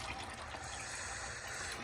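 Engine oil draining out of a Massey Ferguson 1130 tractor during an oil change, a steady, continuous liquid pour with a faint splashing hiss, constant in level from start to finish and no talk.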